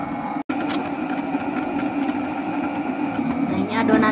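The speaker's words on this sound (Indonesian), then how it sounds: "Saya pakai mesin aduknya, bisa pakai juga tangan, dibanting-banting boleh, tapi ini saya pakai mesin aja." A dough mixer kneads honey whole wheat bread dough with a steady, loud mechanical whir and rhythmic thumping. The motor cuts out for a moment early on, then resumes.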